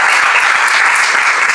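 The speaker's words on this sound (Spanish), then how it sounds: "Fuertes aplausos a nuestro Dios." A church congregation claps steadily and loudly in dense, even applause with no voices over it.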